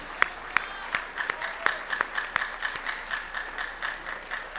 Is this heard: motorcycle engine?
no